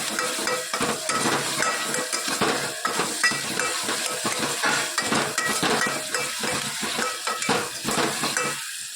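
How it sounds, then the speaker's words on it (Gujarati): Green chilies, garlic, onions and tomatoes frying in a pan, with a steady sizzle and repeated scraping and clinking of a spoon stirring against the metal throughout, close and fairly loud. "અને લીલા મરચાં, ડુંગળી અને ટામેટાં બધું સરસ આપણે શેકી લઈએ."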